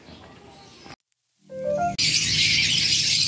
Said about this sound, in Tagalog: yung mga ibon ni Boss Marvin, ayan.